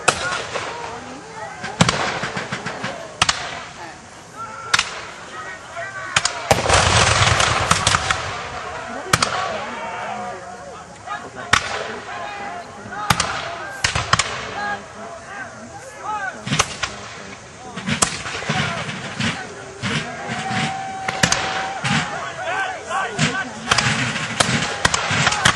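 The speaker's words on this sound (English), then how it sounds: "Scattered infantry firing from the fort itself, but again the range is not quite right." Scattered infantry musket fire rings out from the fort during a reenactment of the siege of Fort Erie, with loud sharp reports arriving singly and in irregular clusters over an outdoor crowd murmur.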